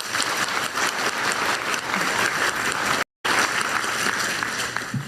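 An audience at a regional industrial investment event gives sustained applause, a dense, even wash of many hands clapping at once, loud and continuous, cut by a brief dropout near the middle before resuming.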